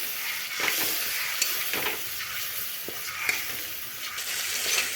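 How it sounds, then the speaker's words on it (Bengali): Spices sizzle in a hot pan with a splash of water while a spoon stirs and scrapes steadily through the paste, a continuous close frying hiss broken by irregular scraping strokes. "একটু জল দিয়ে মশলাটা কষিয়ে নেব"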